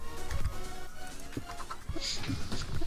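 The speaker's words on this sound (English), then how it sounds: "It's just chickens." Minecraft chickens cluck in short, scattered bursts at moderate distance, a few soft clucks spread over a quiet game background with no talk.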